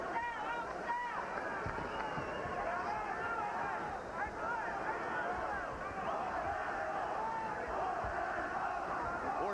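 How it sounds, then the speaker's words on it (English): Boxing crowd at a 1995 WBA super bantamweight title fight between Wilfredo Vazquez and Orlando Canizales, an arena full of loud, continuous babble and chanting voices that swell steadily throughout. "Portions of the crowd chanting Orlando, Orlando."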